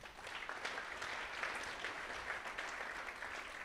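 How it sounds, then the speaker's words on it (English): An audience at the Startup TNT Calgary finale claps for the organizers, a steady, moderate round of applause heard from some distance with no talk over it. "So give a round of applause. Thank you, Startup TNT"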